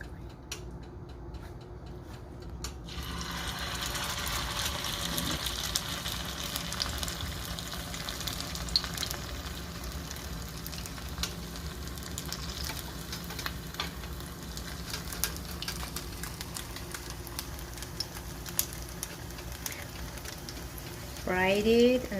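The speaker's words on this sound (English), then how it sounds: "Fried it until to be golden." Oval-shaped kotlets frying in a pan until golden, a continuous close sizzle with crackling pops, steady throughout and briefly louder near the end.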